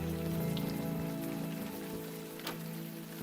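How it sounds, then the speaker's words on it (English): Steady video-game rain patters on surfaces in a soft, even wash, fairly quiet and continuous, with a faint tonal hum underneath and no talk. "let's get out of the rain"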